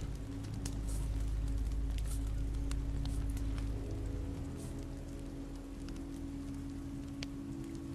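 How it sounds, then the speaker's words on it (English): Steady rain pours down in The Walking Dead video game, a dense, even hiss of drops on surfaces with a low rumble beneath, loud and continuous throughout with no voices. "This rain will turn to sleet."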